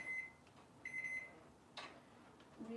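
Kitchen timer being set while baking gluten-free pizza, giving a few short electronic beeps and one longer tone at close range, spaced apart over a quiet room background with no talk.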